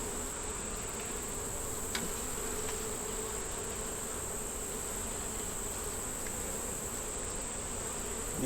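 Honeybees buzz steadily in a hive being inspected, their dense, even hum continuous and close throughout with no voices.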